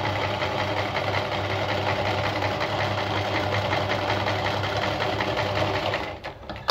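Black Singer 319K sewing machine running steadily at a short stitch length, a close, continuous mechanical whir and rapid rhythmic clatter that holds even before stopping abruptly near the end.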